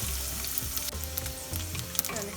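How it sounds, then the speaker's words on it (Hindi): Finely chopped coconut fries in a pan over medium-low heat, a close, continuous crackling sizzle with a few brief stirring scrapes. "1 टीस्पून फाइनली चॉप्ड कोकोनट लिया है, इसे फ्राई कर लेते हैं"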